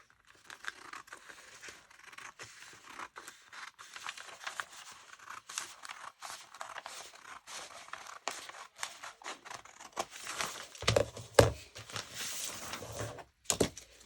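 Scissors cut through a paper bishop sleeve sewing pattern in a quiet room, giving repeated crisp snips and rustles of paper that grow busier and louder toward the end.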